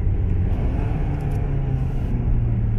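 A 2019 MK7 Jetta GLI engine with a CTS Turbo catted downpipe and stock exhaust, heard from inside the car as a steady deep rumble at fairly even revs.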